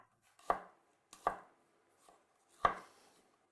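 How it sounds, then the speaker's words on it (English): A knife slices through fresh ginger on a cutting board, giving three crisp, sharp chops with a fainter tap between them, close and clear in a quiet kitchen. "So just slice the ginger,"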